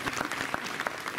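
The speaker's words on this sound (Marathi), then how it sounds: "आता जोरात टाळ्या वाजवा" An audience claps steadily at an indoor event, a dense patter of many hands at moderate volume with no voices over it.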